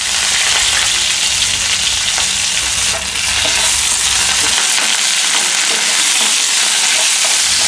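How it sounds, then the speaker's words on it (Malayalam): Green chillies and curry leaves fry in hot oil for an Onam sadya koottu curry, giving a loud, steady sizzle that runs unbroken throughout with no voice over it. "ഇനി ഒരു രണ്ട് മൂന്ന് മുളക് ചേർത്ത് കൊടുക്കാം കുറച്ച് കറി ലീസ് ചേർത്ത് കൊടുക്കാം"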